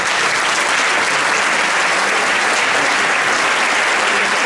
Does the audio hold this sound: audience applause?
yes